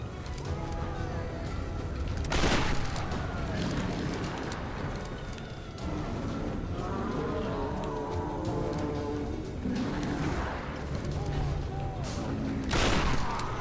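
Gunfire from the video game Tomb Raider (2013), a rapid spray of shots with sharp louder bursts near the start and end, continuous under game sounds and a voice talking throughout.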